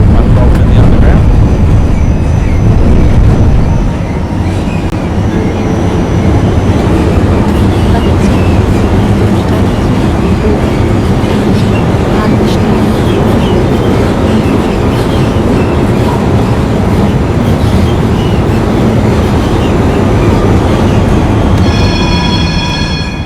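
A Vienna tram in the TramSim Vienna game rumbles loudly through an underground tunnel, a steady roaring drone with rail clatter and faint wheel squeal that continues throughout.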